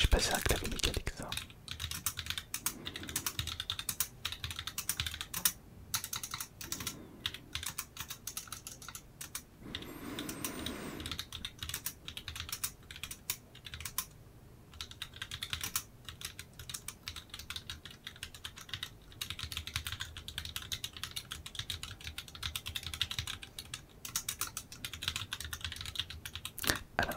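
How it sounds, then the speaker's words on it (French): Rapid, steady clacking of typing on a mechanical computer keyboard, close and crisp, continuing for nearly half a minute with brief pauses and a few louder bursts of keystrokes. "J'ai passé un clavier mécanique, ça."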